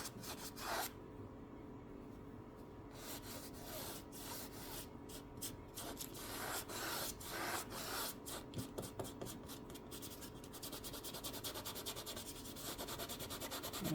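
A paintbrush scrubs paint together on canvas to blend clouds, a quiet, close series of quick dry scratching strokes that grow faster and denser toward the end.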